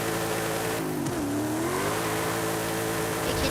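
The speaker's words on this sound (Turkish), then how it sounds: "Supra da birinci vites ne biçim gidiyor." A Toyota Supra in Forza Horizon 5 pulls hard in first gear, its engine note steady and loud, a brief dip in pitch before it climbs again, close and without talk.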